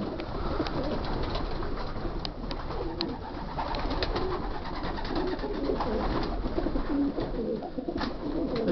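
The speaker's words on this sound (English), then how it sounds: "They're all nice pigeons, but at the end of the day, there's only one winner" Racing pigeons in a loft coo continuously in a soft, overlapping chorus that stays close and steady throughout, with no speech.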